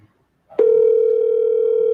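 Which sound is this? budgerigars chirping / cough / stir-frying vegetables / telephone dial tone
telephone dial tone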